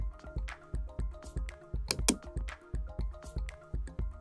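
Quick, rhythmic clatter of keys on a computer keyboard entering a Wi-Fi network name, close and fairly quiet, with a brief flurry of sharper clicks midway and no speech.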